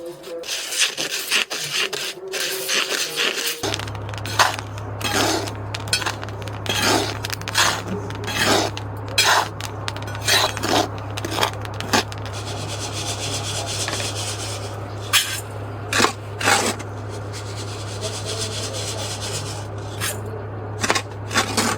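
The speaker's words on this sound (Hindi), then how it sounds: "मैं थोड़ा सा मसूरिया भून रही हूँ, बाजरा" Millet and other grains roasting in hot sand in a pan, with a continuous scraping, rasping stir full of gritty crackles and rattles over a steady low hum.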